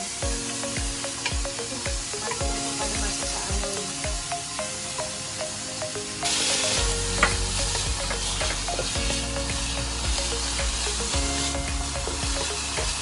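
Udon noodles stir-fried in a pan give a steady, close sizzle with frequent scraping and tossing from the utensil, growing louder partway through as the frying intensifies; no talking.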